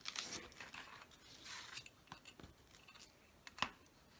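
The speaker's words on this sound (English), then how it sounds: "now let's do the front. Again, we're going to cut our corners" Scissors snip the corners off a paper notebook cover, giving a few faint, sharp cuts and soft paper rustles at close range in a quiet room.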